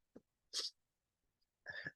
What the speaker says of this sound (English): I think I'll be done for the rest of the day with my sneezes